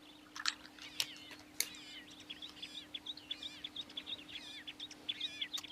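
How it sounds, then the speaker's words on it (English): Cape Longclaws call in the background of a grassland with buffalo nearby, repeated thin whistled and trilling notes in quick bursts, fairly faint, over a low steady hum. "But I'm sure you can hear some of the Cape Longclaws calling in the background here."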